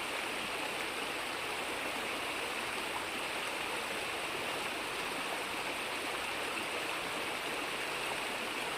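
Continuous rushing of a flowing stream, steady and fairly close, with no voices or breaks.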